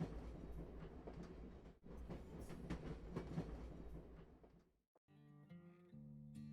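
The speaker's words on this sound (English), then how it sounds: "Where's that train going?" A train rolls past in the video game Where the Water Tastes Like Wine, a loud rumbling clatter of wheels and cars that cuts off abruptly into a soft sustained musical tone.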